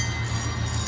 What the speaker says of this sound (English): There's definitely a train.